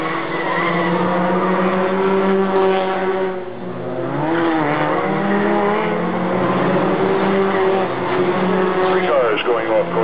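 Historic race cars run at the Monterey Historic 2007 race, with several cars going off course. Engines roar continuously at high pitch, and their tones rise and fall under a commentator's voice.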